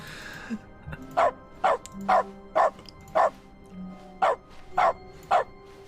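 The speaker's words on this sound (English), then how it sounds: "Clicking makes dog noises." Repeated game dog barks triggered by clicks in The Stanley Parable Ultra Deluxe's dog mode: about nine crisp, evenly spaced yaps in a steady rhythm, loud and up front over a faint low background.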